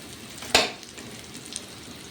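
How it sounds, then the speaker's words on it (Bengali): Vegetable fritters frying in hot oil, with one sharp crackling burst as a batch drops in, then a soft continuous sizzle and a faint second pop. "আর কিছুটা বড়া এখানে আবারও দিয়ে দিয়েছি ভাজার জন্য।"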